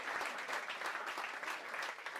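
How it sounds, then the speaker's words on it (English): Steady dense clapping from a crowd in American Truck Simulator, even and continuous with a slightly synthetic, looped quality, at moderate level with no voices. "I'm liking the clapping."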